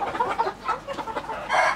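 Chickens cluck and a rooster calls inside a coop, a busy run of close, irregular clucks with a louder burst near the end.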